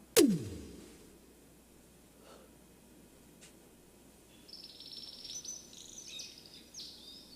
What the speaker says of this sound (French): le beau chant d'oiseaux.